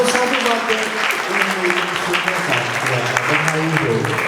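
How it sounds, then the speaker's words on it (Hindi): Audience applause at a Sai Temple gathering in Melbourne, dense clapping running the whole time beneath a loud speaking voice and low tonal sounds, close and full. "हम सब एक बार जोरदार तालियां बजाएं"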